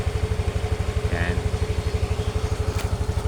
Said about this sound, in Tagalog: naka-on yung ating motor